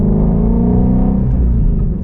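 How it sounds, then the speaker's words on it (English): A Ford Shelby GT350 in sport mode sends out a loud, close, deep exhaust rumble, a steady throaty drone with no talk over it. "So I can also hear that beautiful exhaust."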